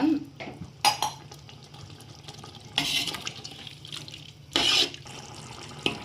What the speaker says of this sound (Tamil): இப்போ 1 டம்ளர் மட்டும் தண்ணி ஊற்றிக்கோங்க.